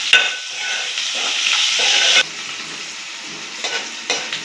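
Onions frying with salt in a pan, a bright steady sizzle with occasional stirring scrapes that drops to a softer crackle partway through, a few short stir bursts near the end.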